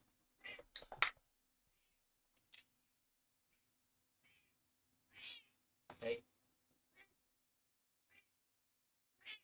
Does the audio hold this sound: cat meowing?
yes